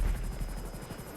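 A Hunter army helicopter in GTA 5 Online thrums with fast, regular rotor chops over a steady engine whine, loud and continuous.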